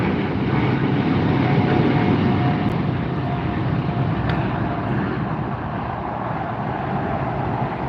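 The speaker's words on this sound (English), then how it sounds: "KLM, otherwise known as Royal Dutch Airlines Dreamliner." KLM Boeing 787 Dreamliner taking off at LAX, a loud, continuous roaring jet engine rumble that stays strong throughout with no talk.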